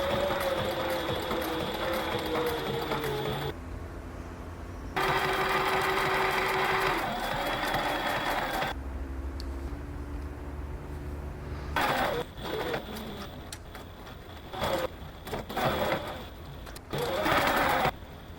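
A sewing machine top-stitches leather backpack panels in several bursts of rapid mechanical whirring, separated by short pauses and handling noises, close and clear.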